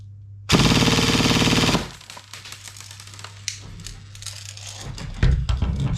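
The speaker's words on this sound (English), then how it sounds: "chuck it on full auto, and we'll just see what rate of fire we get from that" A Cyma CM008 M4 airsoft rifle on full auto lets off one loud, fast burst of a little over a second, followed by quieter mechanical clicks and rattles.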